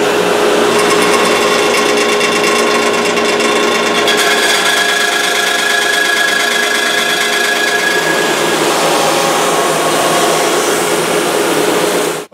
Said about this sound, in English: I'm running the guitar through the thickness sander to get the top layer of paint and crud off of the guitar and also to make it flat